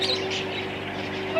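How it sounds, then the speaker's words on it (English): A bird at a zoo gives soft, faint chirps over a steady background hum, brief and close, with no one talking. "look at this bird"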